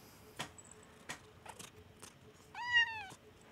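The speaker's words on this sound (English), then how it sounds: "This is my kitty cat." A pet cat gives one clear meow, close and distinct, after several soft taps and clicks in a quiet room.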